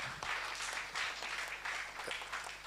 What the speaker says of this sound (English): So can we clap for George?